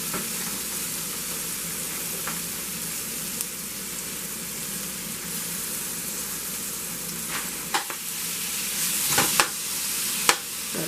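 Cooked, peeled crawfish sizzling steadily in a hot pan for crawfish mac and cheese, a constant close frying hiss with a few sharp spatters and stirring clicks near the end.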